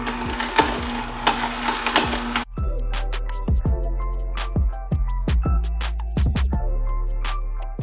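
A Nama Vitality 5800 cold press juicer grinds sliced skin-on cucumber, a steady low motor hum under repeated crisp cracking and crunching snaps, loud and close, with a brief change in tone partway through.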